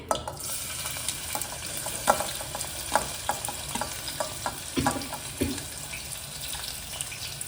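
Chopped onions frying in hot oil with bay leaf, cardamom, cinnamon and cloves for veg biryani, a steady close sizzle broken by sharper scraping stirs, with no talking.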